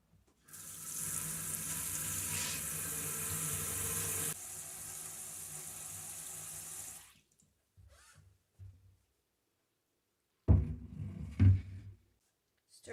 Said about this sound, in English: now I'm going to cover them with water